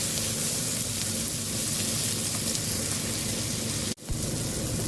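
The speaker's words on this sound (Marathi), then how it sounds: "अशा प्रकारे आपल्याला मसाला भाजून घ्यायचा आहे तेलामध्ये" Red chili spice masala roasts in hot oil with a steady, close, even sizzle throughout, briefly cut by a sharp pause near the end before the frying resumes; no one speaks.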